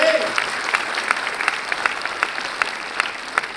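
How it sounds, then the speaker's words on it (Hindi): Applause from an audience in a hall at a healthcare event, a dense, sustained wash of many hands with scattered sharper claps standing out, moderately loud and continuous. "ताली बजानी है तो जोर से ताली बजाएं"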